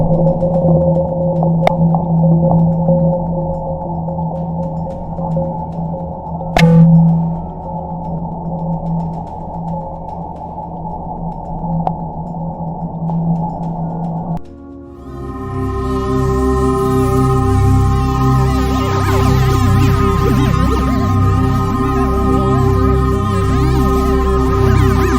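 Sonified measurements from the BepiColombo spacecraft's flyby of Mercury: a steady synthetic drone with sustained tones that shifts abruptly partway through into a denser, louder, brighter wash of layered hums and noise.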